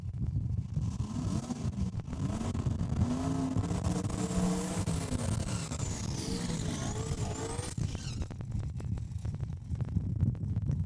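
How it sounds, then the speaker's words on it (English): Mustang drag car doing a burnout at Saskatchewan International Raceway, a loud sustained engine roar with screeching tire squeal rising and wavering for several seconds before easing off, no talk over it. "I think the Mustang wins the Smoky contest for that hit. Wow. Nice burnout."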